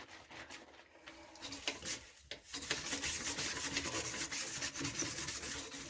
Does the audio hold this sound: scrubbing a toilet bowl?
yes